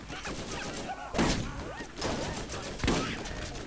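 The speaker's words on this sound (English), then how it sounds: "I know there's a midget shooting me." Gunfire from enemies in the Borderlands video game, bursts of rapid shots and thuds in quick succession, with someone talking over the fighting.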